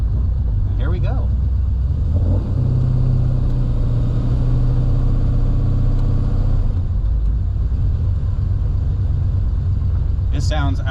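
A 1957 Chevrolet 210 Wagon restomod idles with a deep, steady low rumble, rising briefly in a fuller rev partway through, loud and close, with people talking over it.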